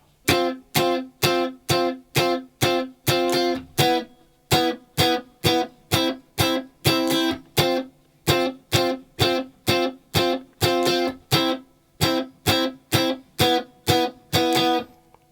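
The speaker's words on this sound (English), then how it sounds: "So this is the kind of lead staccato part that you get over the top of them chords." Clean electric guitar plays the staccato lead part of a song alone, short choppy plucked stabs in a steady rhythm, close and even in level.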